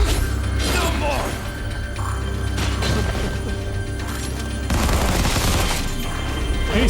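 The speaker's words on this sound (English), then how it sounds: "He still uses his pistols." Pistol shots and combat clatter from the video game Final Fantasy VII Remake Intergrade, quick sharp reports mixed with crashes and mechanical noise over a steady low rumble.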